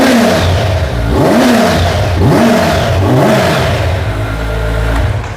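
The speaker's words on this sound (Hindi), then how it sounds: "स्टॉक एग्जॉस्ट के साथ आवाज़ सुन लो।" A Kawasaki Z900 (2024) motorcycle engine with stock exhaust revs up and down several times, a throaty rising and falling roar, then settles into a steady idle; loud and close, no voices.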